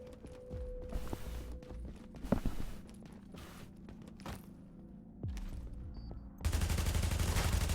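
Gunfire in a video game shooter, with bursts of rapid shots and scattered single reports over steady background game noise, ending in a loud sustained roar of heavy firing.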